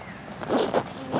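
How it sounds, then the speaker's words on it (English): Zipper being pulled open on the storage bag of a Conqueror UEV-490 or UEV-440 camper's batwing awning: a short, close, scratchy rasp of teeth parting, with a couple of quick pulses. "So step one is simply unzip the awning bag."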